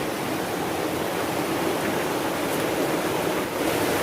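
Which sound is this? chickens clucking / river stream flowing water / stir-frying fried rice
river stream flowing water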